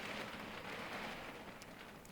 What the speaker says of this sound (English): you can probably really hear the rain overhead now. It's really bad. It's getting really, really heavy outside, almost like a storm